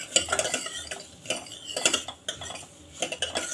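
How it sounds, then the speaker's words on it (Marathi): Semolina is dry-roasted in a pan for mango kheer, stirred busily, with a spoon clinking and scraping the metal in uneven bursts over a faint sizzle. "छान एकदम मस्त भाजले गेले पाहिजे रवा."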